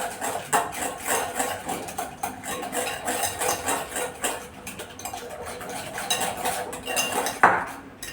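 Curd is whisked in a metal pot with a utensil, giving rapid, rhythmic clinking and scraping against the sides. The sound is close and even for the whole stretch, ends with one louder knock, and has no voices.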